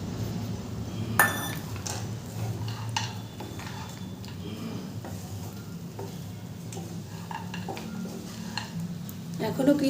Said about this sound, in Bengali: মিডিয়াম ফ্লেমে একটু নাড়াচাড়া করছি